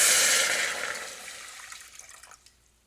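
Water poured for a chicken brine: a loud, steady rushing pour that gradually tapers off into softer trickles and a few drips, with no voices.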